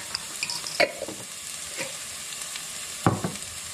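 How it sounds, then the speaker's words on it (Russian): Onion sizzles softly in a pot while a utensil scrapes and clinks against the metal a few times, with quiet gaps between the stirring sounds. "лучок наш вот так вот обжаривается"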